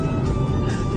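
A truck with failed brakes comes along the Samara-Ufa-Chelyabinsk road, a dense, steady engine and road rumble filling a single brief second without a break.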